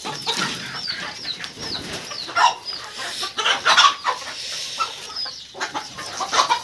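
Native desi chickens cluck and call in a village poultry shed. Overlapping clucks and short squawks carry on steadily from close by, with no voices.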